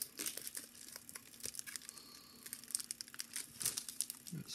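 A packet of collectible stickers being torn and opened: quiet, close crinkling and crackling of foil wrapper in quick irregular bursts, with a slightly louder rustle near the end.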